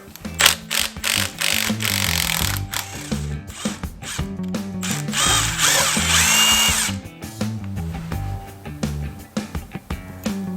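A power tool spins a starter bolt out of a Chevy 350 small block engine, loud close whirring with ratcheting bursts that rise and fall in pulses, no talk.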